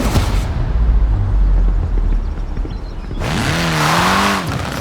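Rally car in Forza Horizon 4 on a loose surface, engine roaring close with gravel crunch, then a revving gear change and a climbing whine, no voices.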